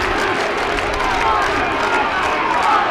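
Crowd roar from the stands at the 2003 All-Ireland Minor Football Final replay between Laois and Dublin, a dense, steady wash of cheering and shouting that holds loud and unbroken throughout.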